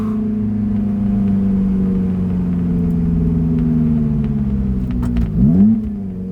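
A Fiat Abarth engine hums steadily up close at low revs, its pitch slowly sinking, then a downshift brings a short sharp rev blip near the end.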